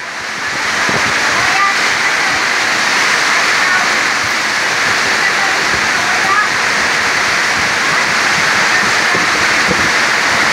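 Heavy rain pours in a storm over a water village in the Philippines, a loud, constant roar of downpour with no breaks, filling the whole stretch; a person talks faintly under it.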